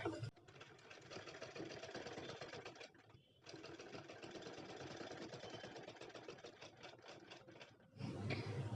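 A sewing machine stitches a square-neck nighty in a fast, steady mechanical whir with dense rapid needle ticks, running continuously, pausing briefly around the middle and near the end.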